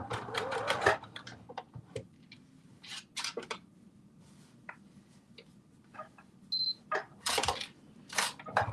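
A sewing machine stitches lining for fabric slippers in short, rapid bursts of mechanical clatter separated by pauses and small clicks, loud and close.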